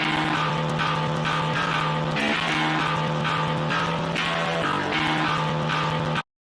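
Virtual eight-string metal guitar programmed in FL Studio plays alone as a dense, heavily distorted chugging riff, loud and continuous with rhythmic low palm-muted hits for about six seconds before stopping abruptly.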